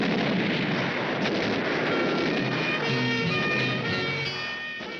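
A cartoon explosion erupts as a loud, dense rumbling blast with crackling debris that holds for several seconds and then slowly fades, with no talk.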